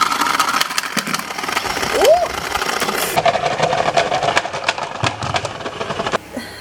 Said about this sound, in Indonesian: sekarang kita bakal coba untuk cuci di mesin cuci mini kita